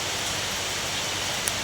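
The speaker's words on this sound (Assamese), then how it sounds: "বৰষুণ দি আছে ৰ'দ দিয়া নাই" Rain falls as a steady, even hiss that fills the whole stretch without breaks, close and fairly loud, with no talking.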